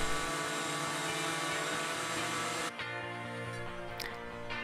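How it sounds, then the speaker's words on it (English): A router fitted with a roundover bit shapes the front edge of a wooden nightstand, giving a loud, sustained high-pitched whine that shifts in tone partway through, heard close with no talk. "I'm using a roundover bit in the router to give the front a nice curved edge."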